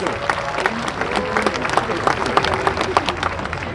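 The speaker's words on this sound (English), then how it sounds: "give him a big round of applause" Audience applauding a California sea lion at an outdoor show at Taronga Zoo in Sydney, scattered claps with distinct individual hand strikes rising over crowd murmur and talk, fairly close and lively throughout.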